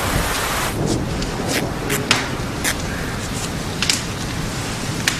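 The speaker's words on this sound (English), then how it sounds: "It was raining very hard." Heavy rain pours down in a dense, constant hiss, with occasional louder drops spattering close by; no voices.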